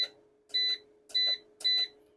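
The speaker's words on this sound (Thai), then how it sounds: "นี่เสียงปุ่มกดครับ" Four short electronic beeps from buttons pressed on a solar charge controller's menu sound at a steady pace, close and clear, over a faint constant hum.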